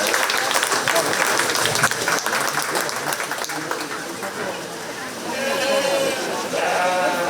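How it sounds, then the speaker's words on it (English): A crowd claps for exhibitors at a 2021 county fair 4-H sheep show, with sheep bleating close by. Steady applause fills most of the stretch, dips briefly, then swells again as the bleats continue. "let's go ahead and give all three of those exhibitors a nice big round of applause"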